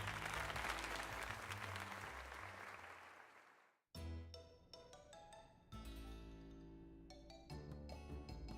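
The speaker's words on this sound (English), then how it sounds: "let us give another heartfelt round of applause to Morgan." Applause in a Pokemon Legends Z-A video game rises and fades for a few seconds, then gives way to bright, chiming synthesized music with a game-like feel.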